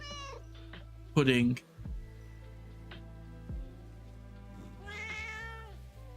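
A cat meows loudly once, then a few softer meows follow, with a person speaking briefly nearby.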